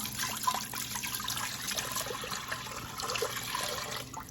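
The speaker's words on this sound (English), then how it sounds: "First, we're going to add 4 cups of water to our InstaPot." Water poured into an Instant Pot pressure cooker, four cups going in as a steady splashing, trickling stream that runs without pause and stays close and fairly even in level.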